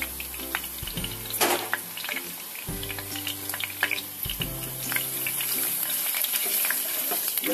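Garlic hitting hot oil in a pan, a loud continuous frying sizzle with spattering crackles and a few low knocks of the pan, no voices.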